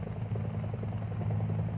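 Air Force UH-1 helicopters returning to base make a steady low rotor thump and engine drone, continuous and fairly loud with no voices.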